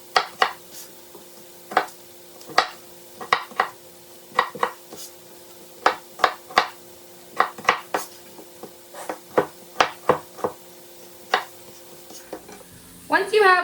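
Sliced Brussels sprouts hit a pan of frying onions, and a long run of sharp clatters and scraping stirs follows in an uneven rhythm, close and fairly loud, with a faint sizzle beneath.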